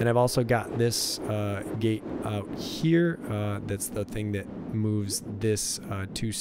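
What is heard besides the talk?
No distinct noise like a dog, phone or traffic.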